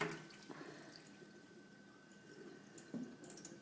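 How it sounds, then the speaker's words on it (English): Water draining out of a container of soaked matza in a kitchen: soft trickling and drips over a low background, with a few short splashes and clunks. "the matza, so we're going to drain the water."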